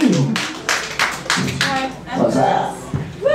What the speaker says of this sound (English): Big round of applause for Paris.